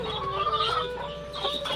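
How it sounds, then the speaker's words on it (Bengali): Pet chickens nearby cluck and murmur in short tonal calls over a steady background, moderately loud, with no talking. "দেখো মুরগিগুলো কি করছে"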